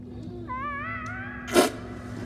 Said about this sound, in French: J'ai entendu miauler